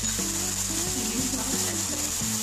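Chicken cooking with tomato sauce in a pan, a steady close sizzle and fry with a voice talking over it throughout.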